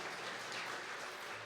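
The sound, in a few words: applause in a church service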